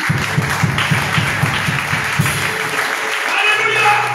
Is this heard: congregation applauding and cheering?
yes